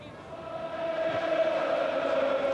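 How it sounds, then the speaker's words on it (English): A football crowd at Brighton's stadium roars steadily and swells in a sustained, distant-sounding cheer, with a commentator talking over it. "The Brighton crowd finally really getting behind their team"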